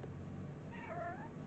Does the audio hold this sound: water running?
no